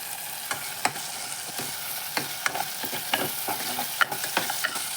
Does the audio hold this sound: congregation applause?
no